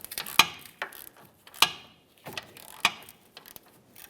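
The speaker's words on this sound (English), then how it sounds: "snugging these bolts down, and then we'll come back and we'll torque those into position" A 3/8-inch ratchet snugs down the hub bolts on a Honda Pilot's rear hub assembly, giving a few short, sharp ratcheting bursts separated by brief pauses, close up and with no voices.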